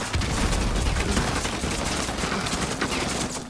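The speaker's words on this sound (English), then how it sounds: "You can get hit with these millions of bullets everywhere" Dense, continuous gunfire from many weapons at once in the Call of Duty Modern Warfare Remastered video game, a loud unbroken barrage of overlapping shots filling the whole stretch.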